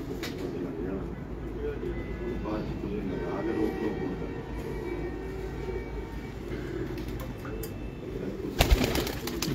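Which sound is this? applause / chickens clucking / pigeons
pigeons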